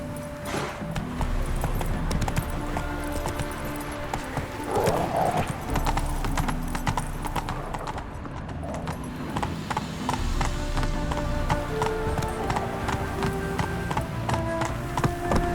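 Roach the horse gallops in The Witcher 3, rapid rhythmic hoofbeats clattering steadily and up close over game music, with a brief whinny partway through.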